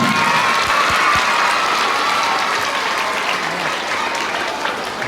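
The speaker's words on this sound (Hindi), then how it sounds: "एक बार बच्चे को जोरदार ताली होनी चाहिए।" A school audience of children and adults in a hall gives a child loud, sustained applause, a dense and steady wash of clapping with faint crowd voices underneath.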